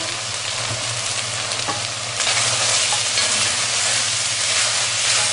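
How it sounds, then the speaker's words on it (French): Meat browns while it is stirred in a hot pan, producing a loud, continuous sizzle that swells noticeably after a couple of seconds and stays strong to the end. "nous allons le rajouter à notre viande maintenant, qui commence à dorer"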